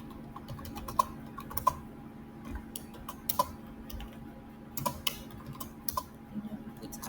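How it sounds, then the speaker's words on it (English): Typing on a computer keyboard while writing C++ code, a string of faint, uneven key clicks with a few sharper taps, quiet and close over a low background hum. "let me just type it out"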